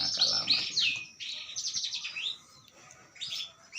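Imported canaries chirp and trill in quick, bright bursts, several close overlapping phrases with short pauses between, clear and lively.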